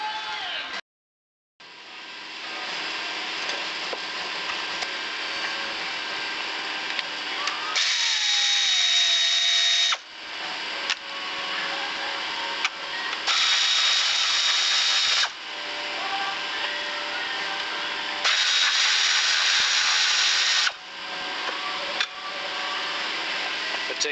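A power tool loosening the belts on a Subaru Legacy 2.2L or 2.5L engine, running close and loud in long sustained whirring stretches, with short pauses and shifts in pitch between runs.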